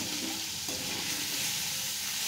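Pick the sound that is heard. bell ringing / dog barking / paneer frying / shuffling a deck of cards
paneer frying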